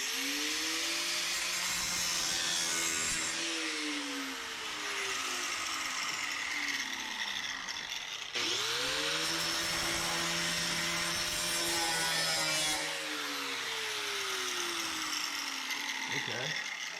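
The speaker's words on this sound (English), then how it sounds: "See if I can reach my grinder." A power grinder works on a Suburban's inner rocker, its whine rising in pitch as it spools up twice, cutting in loud, steady bursts with light scraping between.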